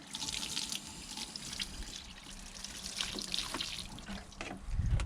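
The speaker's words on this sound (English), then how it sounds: "So just get it nice, rinse it off nice and easy." Water rinsing degreaser off a bike chain, a steady gentle stream splashing and trickling, fairly quiet and close, with a few drips and a low thump near the end.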